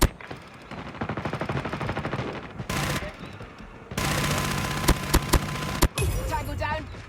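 Sentry gun in Call of Duty firing loud, close rapid automatic bursts: a rattling stream of shots, then a break and a denser sustained volley with sharp individual cracks, game effects and faint voice callouts mixed in.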